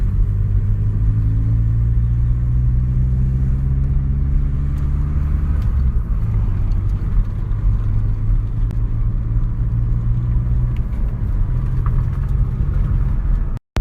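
A VW Passat B5.5 turbo engine held at full throttle with no boost, a loud steady droning rumble with the pitch rising and falling, close and continuous, ending abruptly.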